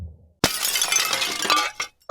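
Window glass shatters from thumping on a wall in an old radio comedy, a sudden loud, close crash followed by a spray of tinkling shards lasting under two seconds.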